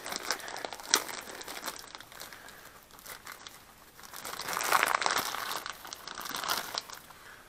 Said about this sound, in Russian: Открываем цепь.